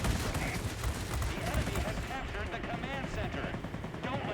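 An Me-410 heavy fighter's tail gunner fires in World of Warplanes, with rapid, dense machine-gun bursts over a constant engine roar, and someone talking over part of it.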